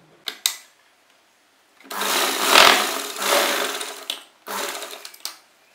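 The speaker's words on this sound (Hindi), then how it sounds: "इस पट्टी को हम यहाँ से सिलाई लगाकर फोल्ड कर लेंगे।" A sewing machine stitches a fabric strip for a potli-button neck pattern. The motor runs in two bursts, a long one of about two seconds and a shorter one after a pause, and there are brief handling clicks before them. No voices are heard.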